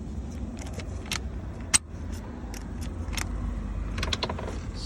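A car key jangles and clicks in the ignition switch of a 2006 Volkswagen Jetta, a series of close metallic rattles with one sharp click near the middle over a quiet background.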